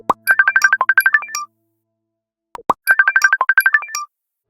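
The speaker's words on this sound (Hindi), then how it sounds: "नील के फोन की घंटी बजती है" A mobile phone ringtone plays a quick, bright melodic phrase, pauses briefly, then repeats the same tune, clear and close with no one talking.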